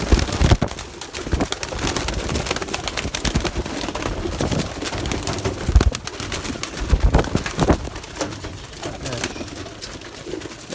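Flocked pigeons belonging to a Turkish tumbler-pigeon breeder coo and flutter outdoors in a steady, close murmur, with wingbeats and rustling throughout.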